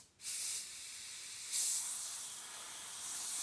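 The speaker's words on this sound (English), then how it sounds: "Let's do some spraying." An airbrush sprays Tamiya dark yellow paint at 20 PSI onto a rusty T34 paint mule, a steady airy hiss in bursts that swells and eases, close and clear.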